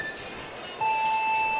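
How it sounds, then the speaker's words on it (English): Competition buzzer at a men's bouldering semi-final in Salt Lake City, a sustained electronic tone that kicks in loud partway through and holds over the venue's crowd noise. "buzzer goes"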